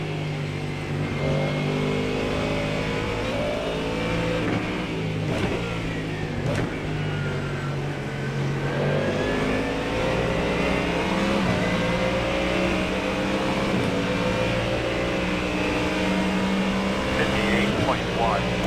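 GT3 race car engines drone and rev steadily in iRacing at the Nürburgring GP circuit, with a Porsche among the pack and the engine pitch rising and falling through gear changes under continuous talk.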